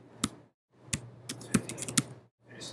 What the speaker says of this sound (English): Finish this typing, hit return.